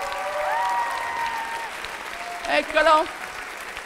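An audience applauds the teachers at a 2022 Christmas concert. The steady, fairly loud clapping runs under a speaker calling people to the front, and a voice speaks over it near the end.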